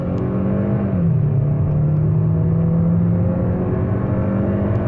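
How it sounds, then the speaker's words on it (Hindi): A Hyundai Alcazar with an automatic gearbox drops its engine note as it downshifts, then pulls hard with a steady, rising drone that stays loud and close throughout. "ये गाड़ी गियर डाउन करती है एंड हियर इट गोज"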